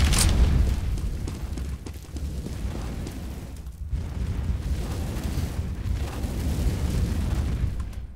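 An incendiary grenade bursts in Counter-Strike: Global Offensive, followed by a sustained roaring, rumbling burn that swells and dips for several seconds.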